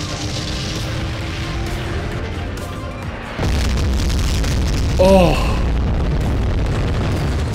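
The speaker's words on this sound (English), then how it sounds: "Stock explosion noises." Stock explosion effects in a PC driving game: a sudden booming blast after a short lull, leaving a loud sustained rumble with a brief crackle, while a player briefly exclaims.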